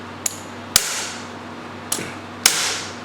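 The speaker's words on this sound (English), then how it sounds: "It's got a screw bit, and then we'll hit it with the hammer." Four sharp metallic hammer strikes on a manual impact driver loosening rusted, stripped screws on a Yamaha YZ125 front brake ring out at uneven intervals, the second and fourth louder, each with a brief ringing decay.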